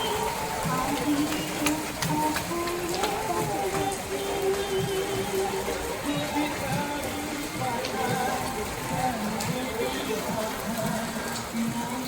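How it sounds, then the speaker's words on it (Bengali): Rain falling outside during a downpour, a dense steady patter heard through an opened window, with people talking over it. "বাইরে সেই বৃষ্টি হচ্ছে।"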